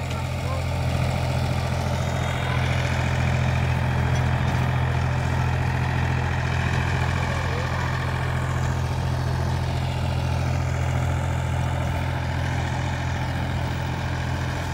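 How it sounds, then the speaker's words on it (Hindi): A Massey 245 DI 50 HP tractor runs unloaded in a field, a steady close diesel drone with a strong low hum and even rumble throughout, and someone talks over it. "भाइयों बहुत बढ़िया चल रहा ट्रैक्टर, लोड नहीं मान रहा दोस्तों"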